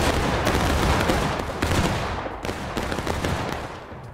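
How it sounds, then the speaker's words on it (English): Musket volley fire in the American Civil War game War of Rights, a dense, loud roll of overlapping gunshots with a few sharper cracks standing out, rumbling on steadily and fading slightly toward the end. "option of shooting at your enemy is volley fire"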